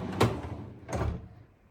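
A repaired wooden drawer slides open and shut in two quick passes, each a short rumbling scrape close by with no voices.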